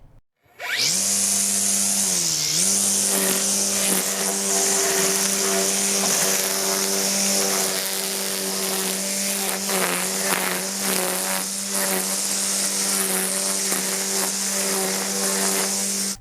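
A GreenWorks 60V 16-inch cordless brushless string trimmer runs continuously after starting, a loud close high-pitched whine with a brief dip in pitch early on, then steady buzzing as it edges and trims a yard.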